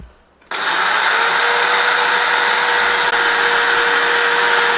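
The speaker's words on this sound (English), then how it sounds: "my coffee grinder makes a big noise" A loud, steady motorized whirring starts abruptly after a brief quiet moment and runs continuously, a small coffee grinder churning through spice seeds for curry powder up close.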